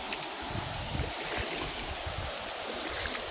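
A stream flows steadily in a broad, even wash of running water, constant and fairly close, with no other distinct sounds.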